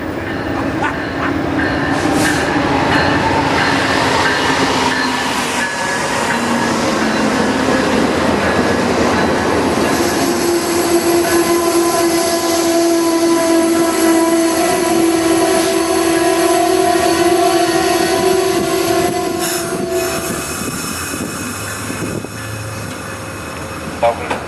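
Amtrak train led by engine 818 pulling into a station platform: a loud, continuous rumble and clatter of wheels with sustained tonal whines and squeals on top, easing off toward the end.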